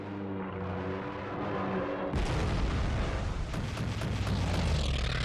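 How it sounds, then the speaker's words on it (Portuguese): Anti-aircraft guns aboard Japanese aircraft carriers in World War II open fire in a loud, dense barrage of booming reports that starts abruptly partway through and carries on steadily, with no voices. "Os canhões antiaéreos nos porta-aviões japoneses abatem os aviões americanos um após o outro."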